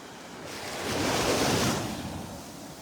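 Ocean surf breaks on a Gulf beach at Delnor-Wiggins, a broad washing roar that swells and fades as a wave rolls in, with light wind noise on the microphone.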